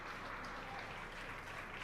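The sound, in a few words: applause and cheers at SpaceX Mission Control after booster landing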